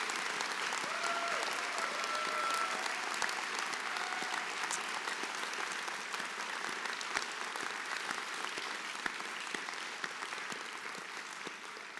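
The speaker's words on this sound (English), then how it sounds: "Let's all give our graduates another round of applause." Sustained, dense applause from a large audience fills a medical school commencement hall, honouring the 2024 graduating class of community medicine; the clapping stays steady and loud throughout, with faint cheers and a few scattered voices underneath.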